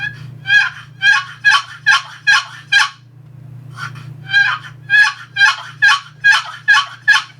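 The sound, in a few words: turkey call imitating gobbler yelps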